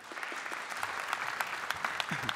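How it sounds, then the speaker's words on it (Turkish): Studio audience applauding on a Turkish television program, a steady dense patter of many hands clapping with scattered sharper claps, moderately loud and continuous throughout. "Bizler de sizleri alkışlıyoruz."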